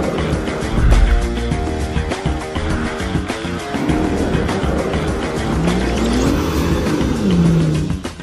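A rally car power-slides sideways on a slippery road, its engine roaring loud and continuous with revving shifts and rising and falling whines as the power is poured on, and no voices over it.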